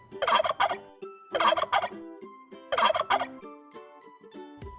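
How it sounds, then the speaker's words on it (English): A turkey gobbles in three loud, rapid bursts spaced about 1.5 seconds apart, each a rattling, warbling call, with quieter trailing notes between them and no talking. "This is a turkey."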